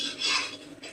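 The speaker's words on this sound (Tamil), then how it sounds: "கிளறிண்டே இருக்கணும்" A spoon scrapes and stirs thick Ashoka halwa made with wheat flour in a pan, a soft rasping swirl that swells and fades, then a short second scrape, close and with no voices.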